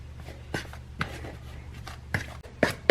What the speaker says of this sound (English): you're just going to use a fork and cut it up into the cake mix